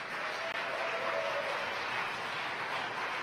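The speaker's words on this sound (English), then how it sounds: "You can hear the applause at SpaceX." Applause from a modest crowd at SpaceX mission control as a Falcon 9 carrying Iridium satellites reaches fairing separation, a faint, distant, steady wash of clapping.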